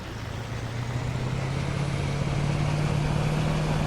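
The engine of a modded truck in Farming Simulator 22 runs at a steady, close idle hum with a low tone that creeps slightly upward, and nothing else is heard.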